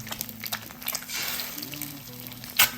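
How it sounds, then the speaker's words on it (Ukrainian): Eggs sizzle in a frying pan with a soft, continuous crackle, broken by a few small pops and a sharper clatter near the end, heard close up. "Берете яйця, розбиваєте і смажите."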